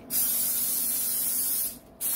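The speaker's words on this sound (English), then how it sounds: "Make an 8x8 dish and spray it well with cooking spray." Cooking spray hissing steadily into an 8x8 baking dish, one continuous close burst lasting nearly two seconds, then a brief pause and the start of a second spray.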